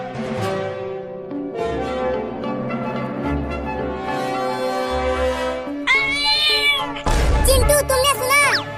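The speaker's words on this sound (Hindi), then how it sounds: "वो छोटी बिल्ली अभी अभी बोली" A cartoon kitten gives a couple of high, rising meows near the end, loud and close, after a stretch of music-like tonal sound with no clear talk.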